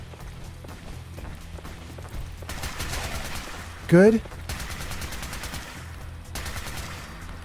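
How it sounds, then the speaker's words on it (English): Rapid bursts of gunfire crackle at a distance in repeated volleys in the video game Fallout 4, with a brief rising electronic tone and a short spoken word partway through. "I can hear gunfire somewhere in the distance."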